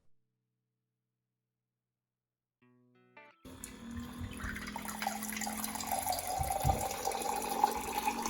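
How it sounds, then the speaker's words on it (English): Electric rechargeable water dispenser pump running after near silence, its steady motor whir joined by water pouring from the spout into a vessel, continuous and fairly close. "Press the push button to dispense water."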